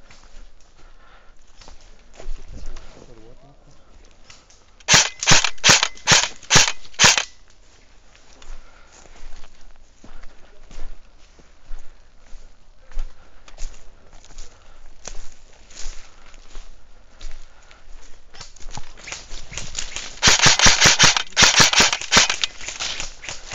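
Airsoft guns fire outdoors in a team skirmish, with a rapid string of about eight sharp snapping shots near the start, scattered clicks and movement in between, then a longer fast volley near the end.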